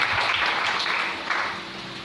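A church congregation applauding the Lord, a dense wash of many hands clapping at once, fairly loud and steady, then easing slightly toward the end.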